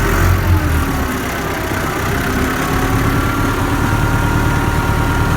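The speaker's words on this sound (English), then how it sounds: "So I'm just agitating the tank here a little bit." A Farmall 560 tractor engine runs at a steady idle nearby while its sprayer tank is agitated, a constant low mechanical rumble with a slight rise in pitch and no talking.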